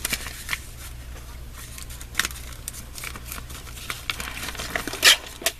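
Scissors snip through a recycled paper envelope with quiet, scattered crisp cuts and rustles, one sharper snip near the end, in a hushed room.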